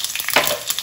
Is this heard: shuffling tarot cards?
no